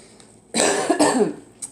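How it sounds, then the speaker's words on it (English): A single harsh cough from a person recovering from a cold, close and loud, with a brief second burst, against a quiet background. "So if you hear me sniffling and coughing, I apologize."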